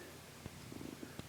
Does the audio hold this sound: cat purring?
yes